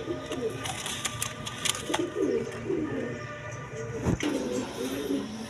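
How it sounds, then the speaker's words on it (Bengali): High flying pigeons coo in soft, repeated low burbling phrases close by, mixed with light rustling and a brief knock, while a person talks intermittently. "হাই ফ্লাইং কবুতর"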